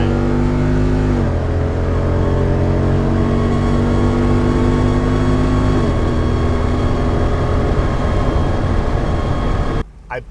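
A Jeep Wrangler 392 with about 70,000 miles accelerates hard, its loud engine climbing to redline, dropping in pitch at two upshifts, then climbing again, heard close from inside the vehicle.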